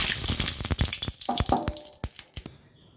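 Water spinach fritters dropped into hot oil in a wok, a busy crackling sizzle that starts loud and thins into scattered pops before fading out.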